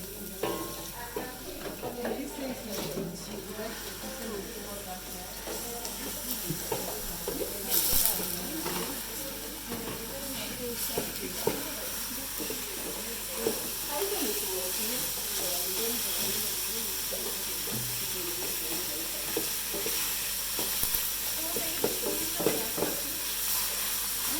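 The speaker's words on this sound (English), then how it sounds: "We want to put our minced meat." Minced meat fries with garlic and onions for a homemade lasagna sauce, giving a continuous hissing sizzle with occasional stirring clatter, while people talk over it.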